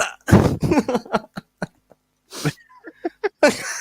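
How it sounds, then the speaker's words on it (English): A man coughing, a few sharp bursts close to the microphone, separated by short silences and quiet breaths. "I'm coughing."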